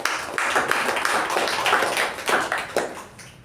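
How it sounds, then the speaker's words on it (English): A small group applauds at a Toastmasters meeting, giving a short, moderately loud burst of hand clapping that thins out toward the end. "Can we have a round of applause for Toastmasters Aadishwar?"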